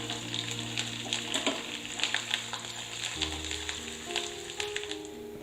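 Cashews, curry leaves and ginger fry in oil as a tempering for temple-style ven pongal. A soft, continuous sizzle runs under faint tonal hum and light clinks, with no talking.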